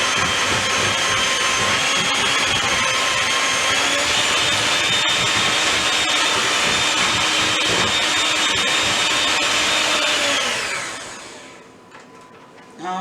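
An electric mixer whirs steadily as it beats pecan pie filling, a loud continuous motor drone with a high whine that holds for about ten seconds before spinning down to quiet.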